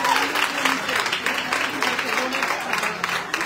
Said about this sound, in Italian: Un applauso, forza!